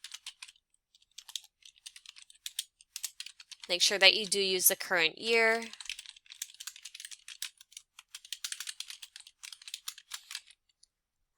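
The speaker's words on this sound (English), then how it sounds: "I'll press my space bar again, and then I'll continue typing." Typing on a computer keyboard, with steady close key clicks and taps running throughout; a voice speaks briefly over the keystrokes partway through.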